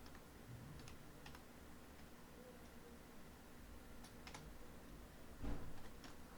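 Fingers tap out a short word on a computer keyboard, giving sparse, faint clicks in small clusters over a low room hum.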